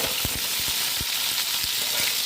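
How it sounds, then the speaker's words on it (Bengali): Pointed gourd (potol) pieces frying in oil in a wok, a continuous loud sizzle broken by repeated stirring knocks and scrapes at an uneven rhythm, with no voices. "পটলগুলোকে এখন আমি লাল লাল করে একটু ভেজে নেব"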